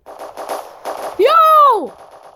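Rapid gunfire in the Roblox video game: a string of short crackling bursts in the first second under an excited voice, followed by a rising and falling tone.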